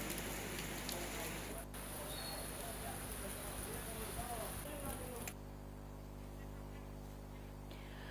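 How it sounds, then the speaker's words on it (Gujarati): Heavy downpour after a morning of drizzle, a steady broadband hiss of rain with some lower rumble, continuous for about five seconds before the sound cuts to a quieter, thinner background. "સવારથી વરસી રહેલા ઝરમર વરસાદની વચ્ચે ધોધમાર વરસાદ શરૂ થયો"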